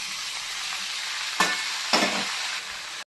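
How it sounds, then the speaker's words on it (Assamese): Chopped mixed vegetables sizzle and crackle loudly in a hot wok, with a couple of sharp scraping stirs partway through. "মই কাটি থোৱা চব্জিখিনি এনেকৈ কেৰাহীখনত দি দিছোঁ"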